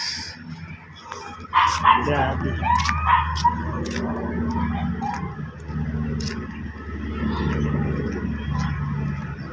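A dog barks and yips several times at a distance, with some whimpering, over steady street noise and a person speaking nearby.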